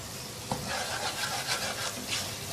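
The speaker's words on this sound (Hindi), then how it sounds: "अच्छी तरह से मिक्स कर लेंगे सारे मसालों को" Ground spices (coriander, cumin, turmeric, red chili powder and salt) for dhaba-style masala chicken are stirred in a pan, with a close, scraping rhythm of spoon strokes and a light sizzle underneath.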